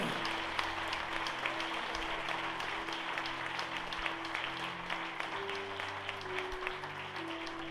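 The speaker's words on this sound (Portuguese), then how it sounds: "Se você crê nisso, aplauda ao Senhor." Congregation at a church celebration service applauding in a steady, sustained wash of clapping, moderately distant and roomy, with a low sustained tone, likely organ or keyboard, underneath throughout.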